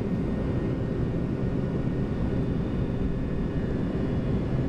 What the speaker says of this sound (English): Set takeoff thrust.